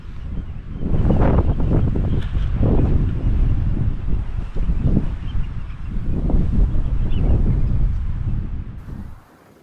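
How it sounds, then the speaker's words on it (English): Strong gusting wind batters a wild camping spot and buffets the microphone in heavy, roaring bursts that swell and ease for several seconds before dying away at the end. "Christ, it's getting windy."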